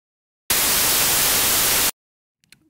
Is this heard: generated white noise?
yes